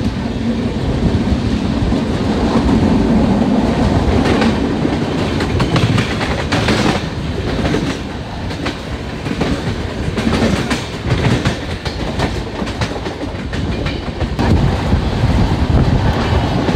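Durgiana Express train running at speed on the Kolkata to Dhanbad line, heard from inside with a steady loud rumble, clickety-clack of wheels over rail joints and wind rushing past throughout.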